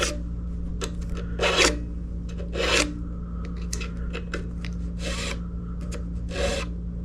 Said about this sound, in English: One direction, just a couple strokes, and you're going to take that little burr off.